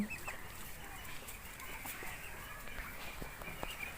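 Chinese ducks kept on a small farm in Assam give faint, scattered fowl calls, short intermittent squawks and clucks heard at a distance over quiet background.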